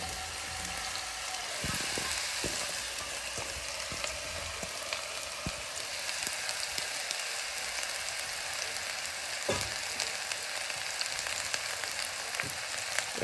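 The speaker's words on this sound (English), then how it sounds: "we're going to start by sauteing our mushrooms a little bit" Mushrooms sautéing in hot oil, a steady broadband sizzle and crackle held close throughout, with a few sharper pops and clicks of utensils scattered through it.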